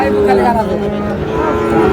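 A Sahiwal bull on a farm in Sylhet gives a loud, sustained low moo that fills the whole moment up close.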